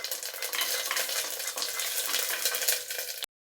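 Cashews and cumin seeds fry in ghee inside a pressure cooker with a close, bright crackling sizzle that ends abruptly, without speech.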